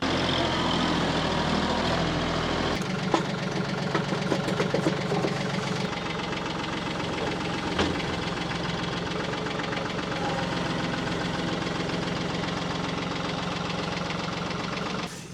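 A truck engine runs steadily while pulling a trailer forward on a farm, a loud, continuous, knocking diesel rumble that shifts in tone after a few seconds and carries on throughout without speech.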